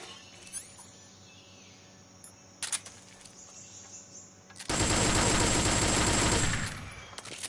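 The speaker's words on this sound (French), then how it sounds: "Je m'en fous, je vais gaspiller une balle." Gunfire in Metal Gear Solid 3: Snake Eater: after a quiet stretch broken by a couple of faint clicks, a loud dense burst of rapid shots erupts and rattles for about two seconds before cutting off.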